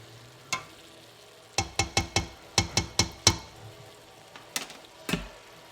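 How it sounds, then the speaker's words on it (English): Onions and garlic frying in a pot for garlic soup, a soft sizzle under a run of sharp stirring taps and utensil clicks against the pan, moderately close. "Those onions are really starting to soften up. Garlic still has a little bit of a way to go."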